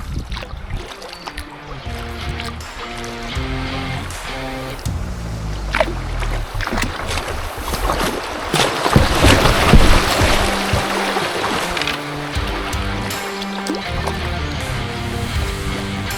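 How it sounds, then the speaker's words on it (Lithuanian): A kayak runs a small set of rapids on the Dubysa river in Lithuania, with continuous rushing, splashing water and paddle strokes close by that swell toward the middle of the run, and no talking. "Prieki dar vienas slenkstukas. Na ir lekim."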